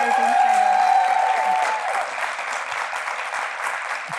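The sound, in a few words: audience applause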